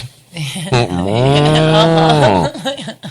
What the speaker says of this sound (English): Listen, we got cows.